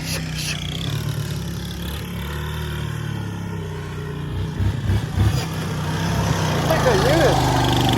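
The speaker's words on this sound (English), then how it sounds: "You should hear the exhaust." A Honda Rancher ATV engine idles through its exhaust, a low, steady, rough rumble held up close throughout, with a few sharper pulses partway through and voices talking over it.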